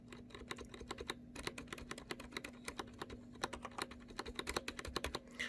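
Rapid, clicky keystrokes on a Corsair K95 mechanical keyboard fitted with Corsair keycaps with double O-rings, close and continuous, over a low steady electrical hum.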